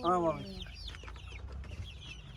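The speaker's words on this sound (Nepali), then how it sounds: "कडकनाथ यो कडकनाथको चल्लाहरू" A loud Kadaknath chick call opens, followed by fainter chirps and peeps over a low background rumble.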